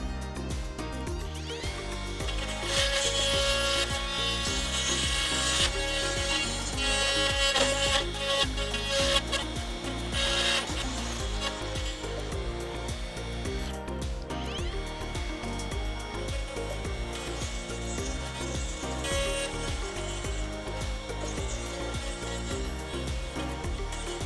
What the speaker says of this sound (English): Now we're going to use this router to cut out where our hinge is gonna go.